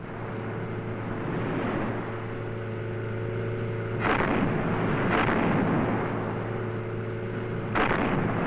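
Rifle shots fired during an Inuit walrus hunt on Arctic waters, a few sharp booming reports spaced seconds apart over a constant loud engine drone.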